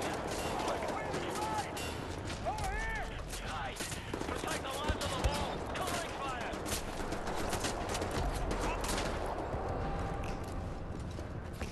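Wolfenstein battle: scattered gunfire and shots mixed with constant combat noise and shouting voices, fairly quiet and dense throughout.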